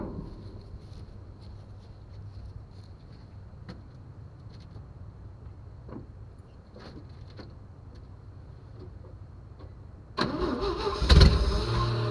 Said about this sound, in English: let's try cranking it over and see what happens